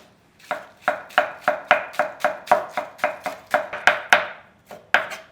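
Green onions chopped with a knife on a cutting board, about eighteen crisp, even strikes in a steady rhythm, close and clear, with no voices.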